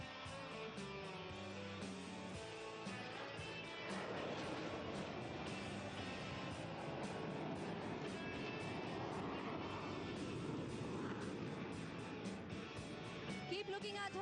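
A Surya Kiran aerobatic team jet manoeuvres overhead at an Air Force Day display at Hindon air base, a faint, steady, distant engine roar lasting throughout, with a voice speaking over it.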